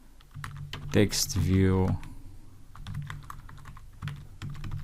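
Code typed on a computer keyboard for an Android app, rapid close-miked keystrokes clattering in bursts before and after someone speaks briefly over them.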